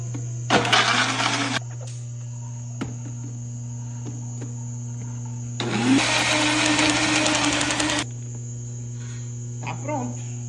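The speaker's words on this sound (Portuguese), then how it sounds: "Vou ligar aqui, ó. Nosso liquidificador." A blender grinding fish seasoning without water whirs in two short pulses, the second longer, with a steady electrical hum running underneath throughout.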